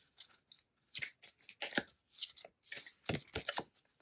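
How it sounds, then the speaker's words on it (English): Tarot cards being shuffled by hand during a reading, quiet close riffling and slapping bursts in an irregular rhythm with brief pauses, alone without talk. "Quite difficult to shuffle these."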